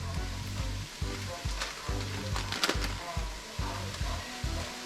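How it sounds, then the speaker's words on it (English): A stick and a half of butter melts in a pot for a chicken and sausage gumbo roux, sizzling softly and continuously close by, with quiet stirring and a faint rhythmic hum underneath. "So I am now going to put in my stick and a half of butter."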